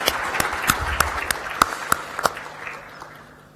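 An audience in a conference hall applauds at a plenary session, a group of claps that is sparse and distinct at first, then thins and fades out toward the end.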